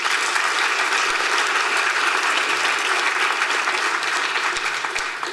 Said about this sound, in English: So let's hear it for those 3 projects.